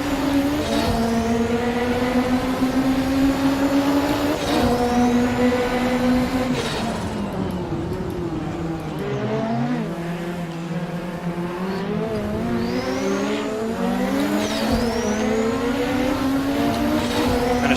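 Race car engine in the Assetto Corsa racing game with the DRM Revival mod, loud and continuous, revving up and shifting through gears repeatedly, with brief tire squeal on the slowest car on the grid.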